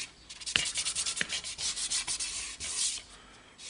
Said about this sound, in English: Now we want to scribe a nice tidy circle in the MDF.